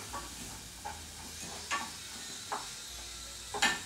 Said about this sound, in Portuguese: Enquanto vai dourando a cebola aqui no foguinho baixo